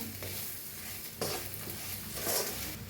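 Okra and potatoes stirred in a hot pan with roasted spices, a soft continuous sizzle broken by a couple of sharper scraping strokes, no voices.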